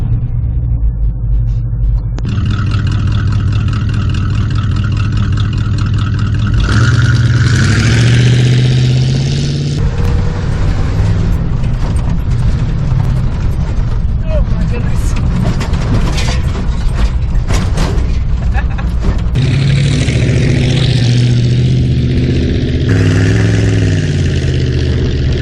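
A '78 Chevy K5 Blazer with a small-block 350 V8, fresh cylinder head and tuned carburetor, cranks and fires, then settles into a loud, steady rumble with repeated throttle revs rising and falling up close.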